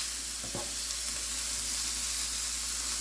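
A hash brown omelette fries in a pan, producing a steady, even sizzle with a couple of faint taps near the start.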